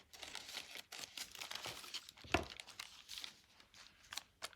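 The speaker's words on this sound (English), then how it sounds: "Just gonna cut it." Scissors cut through paper for a collage journal, giving soft, close crinkling snips and rustles in an irregular rhythm against a quiet background.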